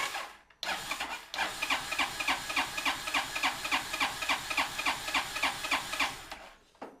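A Honda CN250 scooter engine idles after a camshaft refit, giving a steady, even mechanical beat with a regular rhythmic tick that runs near and loud for several seconds after a brief start.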